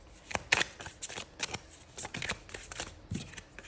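A deck of cards is handled up close for a card reading: soft, quick rustles, slides and flicks of the cards come in a loose, irregular rhythm while a card is drawn, with no voices.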